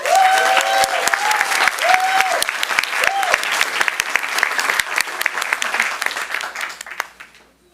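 An audience at a school board of education meeting applauds its honorees with steady, dense clapping and some voices and whoops mixed in, before the sound fades out near the end.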